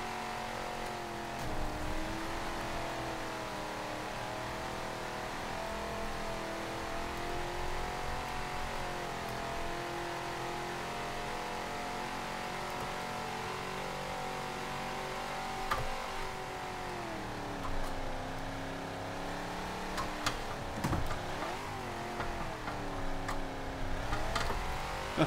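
A race car in Forza Motorsport 7 on a wet track, driven with a wheel on an Xbox One X, drones steadily at sustained engine pitch, rising and falling through shifts and cornering, with no talking.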